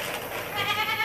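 A single wavering bleat from a buck goat, close and moderately loud, lasting about a second.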